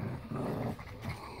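A Pug Boston Terrier and a Miniature Pinscher with a Chihuahua fighting, with close, rough growling and snarling in short bursts, no talking.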